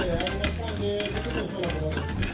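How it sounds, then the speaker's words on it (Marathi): Green chillies and peanut powder being smashed in a pan with a metal cup, repeated rhythmic thuds and metallic scraping against the pan, close and steady, with some low background sound. "तो कूट आता ह्या मिरच्यामध्ये टाकलेला आहे आणि ह्या आपल्याला फुलपात्राने व्यवस्थित अशा स्मॅश करून घ्यायच्या आहेत"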